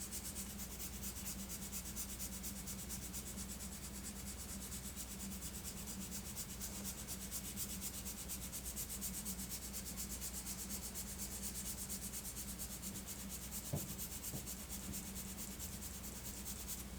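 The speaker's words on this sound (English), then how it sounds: "now that we've sanded back the majority of the white putty that we put on there" Steady abrasive rubbing as white putty and clear coat are sanded back on the body of an Alpha Model Mazda RX-7 Veilside model car, continuous and close throughout, with a faint tap near the end.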